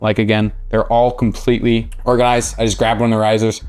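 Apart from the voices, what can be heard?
No everyday noises stand out.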